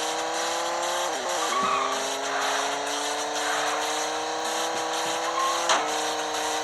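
A car engine revs continuously in the mobile game Traffic Racer, a loud synthetic drone whose pitch climbs and then drops with each gear shift, repeating steadily over several seconds.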